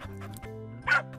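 Puppy in a cooking game giving short whimpering yips, a few brief cartoonish cries over a soft tonal background, ending in a louder burst.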